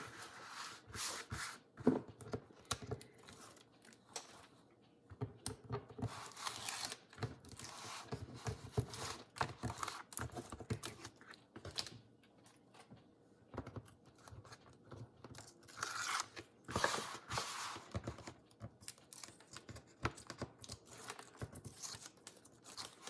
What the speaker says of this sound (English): So then I remove all the tape backing, and mostly I do the sides first, but I take all the tape off.